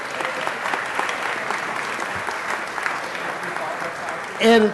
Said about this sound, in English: Please give her, Ms. Englander, a round of applause.